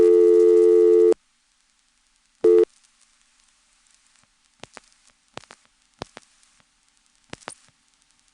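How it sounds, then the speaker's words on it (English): Busy signal from a GTE/Leich CXP-5 crosspoint telephone switch, 1977: a loud harmonic-rich tone burst for about a second, a brief second burst, then faint clicks and ticks on an otherwise quiet line. "resulting in a busy signal."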